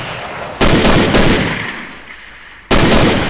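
Loud automatic gunfire bursts during a military building-clearing drill in a wooden structure, two long sustained volleys separated by a short pause, close and harsh, with no talking.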